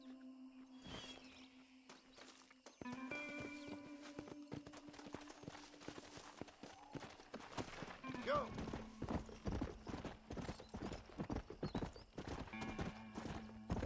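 Horse hooves clip-clop steadily at a walking pace in Red Dead Redemption, with a horse whinnying and a voice talking over the game sounds.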